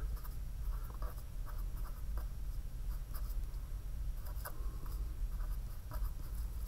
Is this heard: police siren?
no